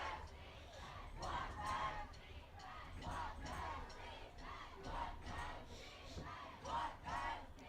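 Crowd at a high school varsity homecoming football game, Santa Clara versus Los Altos, roaring and chanting in repeated rhythmic surges, with a commentator's voice over the noise.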